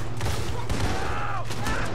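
Rapid bursts of gunfire in the video game Red Dead Redemption 2, loud and continuous over two seconds, with battle noise filling the mix and no clear talk.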